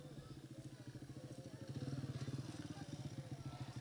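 A motorcycle engine runs close by in a steady, throbbing idle whose low pulses repeat rapidly and swell slightly midway, at a flood-damaged home in Lahore's Chung area.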